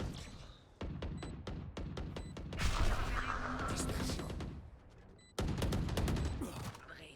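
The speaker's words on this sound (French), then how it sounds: "Grenade aveuglante." Flashbang grenade going off in a shooter video game amid a barrage of rapid gunfire, with loud sharp shots and a sustained roaring blast in the middle, ending in renewed shooting.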